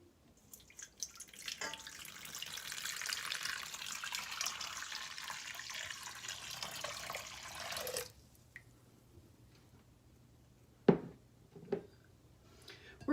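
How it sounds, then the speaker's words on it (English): Two cups of lukewarm water are poured into a mixing bowl, a steady splashing stream lasting about six seconds. A few small drips and clinks follow in near silence. "we're going to add 2 cups of lukewarm water"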